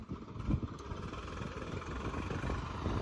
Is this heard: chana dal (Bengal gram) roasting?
no